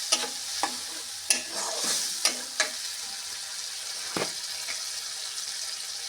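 Tomato paste frying in a pan for prawn malai curry, a steady hiss of sizzling with several sharp scrapes of a spoon stirring against the pan, close and fairly quiet, no voices.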